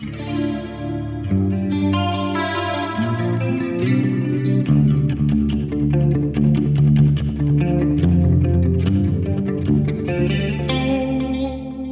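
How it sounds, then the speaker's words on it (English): An electric guitar played through a pedalboard with chorus, delay and algorithmic reverb rings out in shimmering, echoing chords and single notes for several seconds, with no talking. "Again, this is chorus, delay, and reverb."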